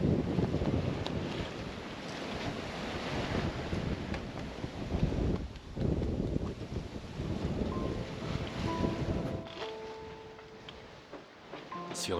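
Aboard a sailboat crossing the Atlantic, steady wind roars over the microphone while ocean waves wash and slosh around the hull in a continuous loud wash, with faint creaks and tones near the end.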